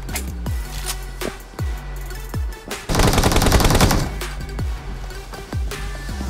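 Shotgun gunfire in the mobile game BGMI: a string of sharp, evenly spaced booming shots, loud and close, broken by a dense burst of rapid fire in the middle before single shots resume.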